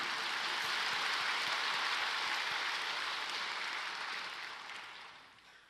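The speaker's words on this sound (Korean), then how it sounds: "박수 한번 크게 치십시오." A church congregation bursts into loud, dense applause during an Easter service, a sustained wash of many hands clapping together that stays steady and then fades away toward the end, with no talking over it.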